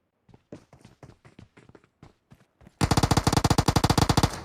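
Loud, rapid gunfire from a Mini14 rifle in the PUBG Mobile video game bursts in suddenly after a few seconds of quieter scattered taps, then continues as a dense, fast run of shots to the end.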